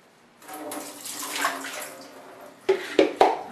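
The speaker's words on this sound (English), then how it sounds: "I'm going to rinse them off." Water runs over sunflower seed sprouts as they are rinsed. A steady splashing flow goes on for about two seconds, then fades, and three sharp knocks or clunks follow close together.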